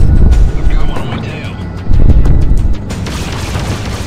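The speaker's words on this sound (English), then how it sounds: "That was a very, very powerful torpedo run. Killed a battleship." A torpedo strikes a battleship in the space combat game Freelancer, giving heavy low booms and rumbling blasts up close, mixed with engine drone and someone talking over it.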